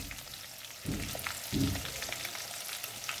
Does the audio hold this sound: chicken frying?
yes